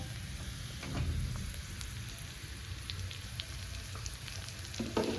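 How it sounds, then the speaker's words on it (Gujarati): Hot tempering poured over palak paneer curry sizzles as a soft, crackling hiss with scattered pops, quiet and close, with no speech. "હવે આપણું જે શાક થાય છે તેની ઉપર છે આ આપણે તડકો રેડી લઈએ છીએ"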